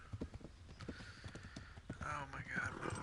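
Rapid hoofbeats of a galloping horse in the video game Kingdom Come Deliverance, a quick clip-clop rhythm close by, with a brief whinny-like cry near the end and a voice talking over it.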